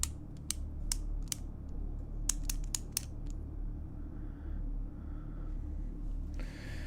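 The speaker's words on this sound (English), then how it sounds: "I got my pen clicking." A pen clicking in quick sharp bursts, several clicks in two clusters close to the mic over a low steady background hum, then quieter rustling toward the end.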